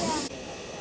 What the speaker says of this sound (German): so eine Dampfzug-Sonderfahrt von der Eisenbahnfreunde zur Landbahn